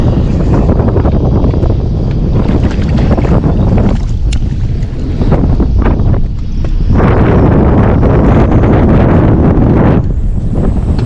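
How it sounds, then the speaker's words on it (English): Strong wind buffeting the microphone on Lake Minnetonka while bass fishing from a boat, a loud, continuous roar with gusty surges and brief lulls throughout. "There's that wind."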